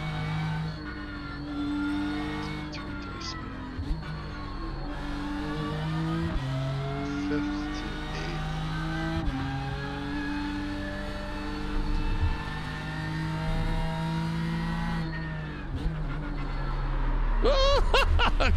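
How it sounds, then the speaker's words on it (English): A BMW M4 GT3 race car at Road Atlanta in iRacing, its engine revving hard through repeated upshifts and downshifts with stepped changes in pitch over a sustained drone. "There's a car approaching."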